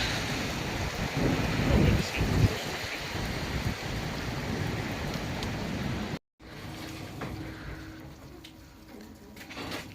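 Steady rain hisses and patters on surfaces nearby, a dense continuous wash with faint voices in the background.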